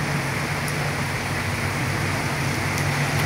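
Rain falling steadily during a stormy e-bike road test, a dense, even hiss of drops on surfaces with a low rumble underneath, constant and close throughout.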